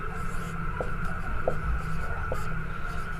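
Chalk or marker scratching a statement onto a classroom board during a Class 10 physics lesson on light and mirrors, a few faint strokes over steady room hum with no speech.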